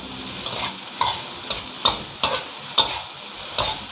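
Fried rice with Chinese kale and salted fish being stir-fried in a pan, with a spatula scraping and tossing in about eight sharp, regular strokes over a steady sizzle.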